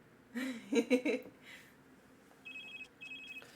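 Phone ringtone in an RPG Maker MV game, two short electronic ringing bursts arriving late after some brief talk and vocal sounds, moderately loud.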